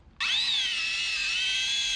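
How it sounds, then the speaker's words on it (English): A Harbor Freight electric power drill spins up abruptly and holds a steady high-pitched whine for about two seconds, close and loud, during a Jeep engine install. "there goes another Harbor Freight drill."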